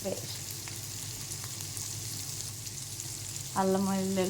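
Soaked dried fish frying in a pan with ginger garlic paste, a soft steady sizzle throughout, then a brighter, louder crackle and utensil clink toward the end.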